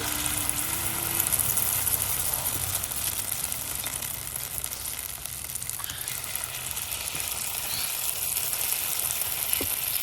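Egg frying in an uncovered pan for an omelette, a steady close hiss and crackle of sizzling oil that holds evenly throughout, with no one speaking.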